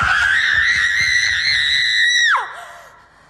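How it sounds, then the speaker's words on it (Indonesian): A schoolgirl in a Japanese film screams hysterically: one loud, piercing, sustained shriek for about two seconds that abruptly breaks and trails off into fading sobbing wails. "Siswi itu malah teriak-teriak histeris gitu kan"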